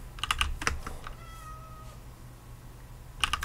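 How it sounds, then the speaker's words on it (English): A cat meows in a video game, a few short calls with faint keyboard typing and a low steady game hum underneath. "There's a fun little kitty."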